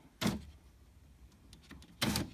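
Electric window motor in a Suzuki SX4 door fitted with a new regulator, two short whirring bursts about two seconds apart with faint mechanical clicks between them, close and fairly quiet.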